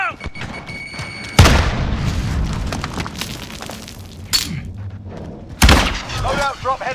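A grenade blows up in a video game with a heavy boom and rumbling debris, followed by further booming thuds and sharp impacts, loud and close amid gunfire and battle noise.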